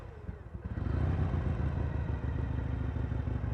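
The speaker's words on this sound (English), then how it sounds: "you go ahead and crank that run switch" A Harley-Davidson Sportster XL883 motorcycle engine cranks over and catches, then settles into a steady, close, rumbling idle.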